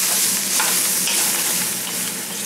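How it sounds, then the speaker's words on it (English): Hot roux being stirred in a pan, a loud, dense sizzle with continuous scraping strokes of the spoon, close up and with no voices. "You gotta keep stirring it till you get the fluid, the stock in there."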